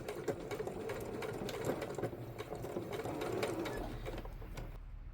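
A sewing machine running a slow, careful straight stitch through thin fabric, its needle thumping in a quick steady rhythm at close range, then briefly stopping near the end.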